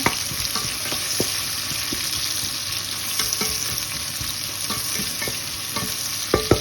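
Onions fry in a pan with salt, cinnamon and cardamom for chicken curry, giving a constant close sizzle broken by scattered clicks and scrapes of stirring.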